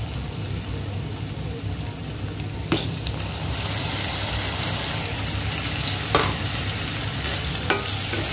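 Prawn masala with fresh coconut paste and ginger, garlic and green chilli paste sizzles steadily in a pan, a dense rain-like hiss with occasional spoon knocks and scrapes as it is stirred.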